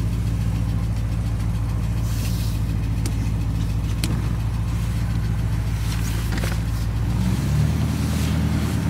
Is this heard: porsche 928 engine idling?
yes